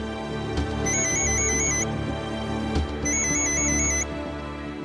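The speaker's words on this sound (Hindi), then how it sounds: "आपके नंबर से फोन आ रहा है।" A phone ringtone plays in two repeated bursts of electronic trilling tones, loud and close, with a low background hum underneath.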